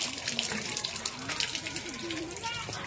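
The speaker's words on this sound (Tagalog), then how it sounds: "Maghugas lang tayo ng paa kasi madumi." A tap runs steadily outdoors while someone washes dirty feet, the water splashing and gushing close by with small fluctuations, and a voice speaks over it.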